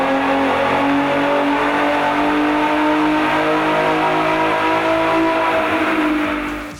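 2015 Ford Mustang V6 automatic with a 93 octane tune running on a dyno, engine held at a loud, steady high-rev drone that climbs gradually before easing off at the end.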